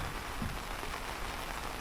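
Rain falls steadily outdoors in England, a dense, even hiss of drops on surfaces that carries on unbroken at moderate volume with no voices.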